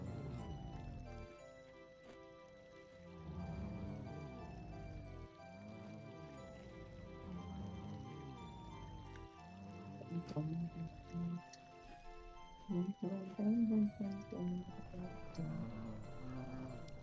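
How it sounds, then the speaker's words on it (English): A recurring watery game effect plays as soft dripping, squishing liquid sounds that repeat in slow waves over a quiet melodic backdrop, with a few louder sloshes toward the end. "Does a water effect have to happen every single time?"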